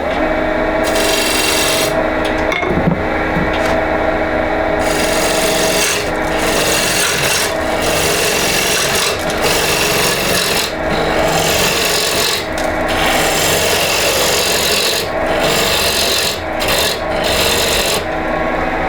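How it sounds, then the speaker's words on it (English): A lathe tool used as a scraper works against wood while turning a bagpipe chanter, giving a loud, continuous rasping scrape broken by short gaps as the tool is jabbed in and lifted off. "I'm actually using that as a scraper. I'm not actually cutting with it, I'm just jabbing it in"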